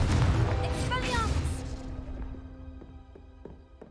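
A Confringo blasting spell explodes in a Harry Potter video game, a deep rumbling boom at the start that fades into a low hum, while a voice speaks over it.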